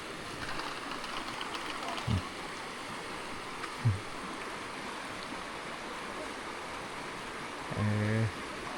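Floodwater in a rural area rushes steadily in a continuous wash that fills the whole clip, with a few brief knocks and thumps over it.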